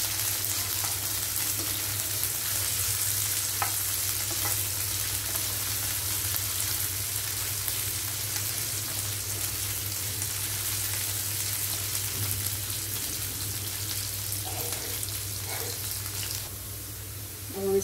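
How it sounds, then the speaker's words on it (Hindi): Cubed capsicum fries in a pan with a steady, close sizzle that holds for the whole stretch, broken by a few faint clinks near the end. "तो पहले मैंने शिमला मिर्च को क्यूब्स में कट कर लिया है, इसको डालनी है पैन"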